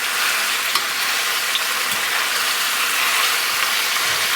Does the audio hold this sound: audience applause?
no